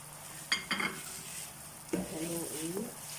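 Adobong kangkong being stirred in a frying pan, a few soft scraping strokes of a utensil against the pan over a quiet background sizzle.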